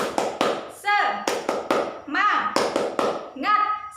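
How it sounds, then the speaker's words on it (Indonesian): Schoolchildren in an Indonesian primary classroom do a rhythmic class clapping chant, sharp hand claps in bursts mixed with children's shouted voices, loud and close. "mari kita tepuk semangat terlebih dahulu"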